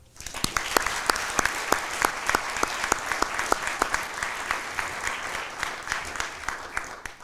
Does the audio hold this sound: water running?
no